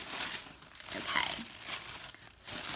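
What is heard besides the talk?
unwrapping and tearing brown wrapping paper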